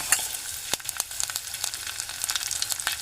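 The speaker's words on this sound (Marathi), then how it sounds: "कांदा टाकतो बारीक चिरलेला" Finely chopped onion sizzling in a hot pan, with a soft, crackling fry and quick popping spits at close range, fairly quiet and with no voices.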